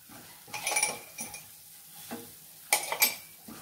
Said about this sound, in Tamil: எல்லாத்தையும் போட்டு மறுபடியும் பச்சை வாசனை போற மாதிரி கிண்டிடுவோம்